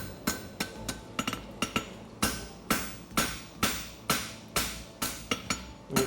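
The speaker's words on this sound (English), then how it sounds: "Now I'll put on tapered heel, forging it to center." A hammer forging a tapered heel on a hunter-style horseshoe at the anvil, about a dozen sharp metallic blows in an uneven then steady rhythm, each ringing briefly, close and clear with no talk.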